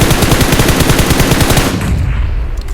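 Loud, rapid automatic gunfire from a shooter video game rattles continuously for most of the clip and then cuts off into a quieter tail.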